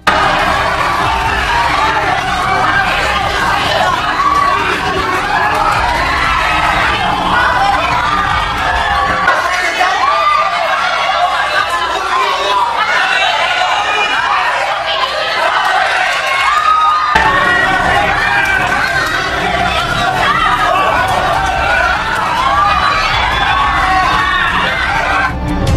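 A Japanese crowd at a boxing match roars and cheers continuously, a loud dense wall of shouting and whooping for their fighter that dips briefly midway and then surges back, with voices mixed in.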